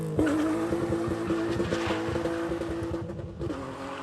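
A drift car's engine runs steadily at a rumbling idle with a droning tone, close and loud, the pitch dipping slightly near the end.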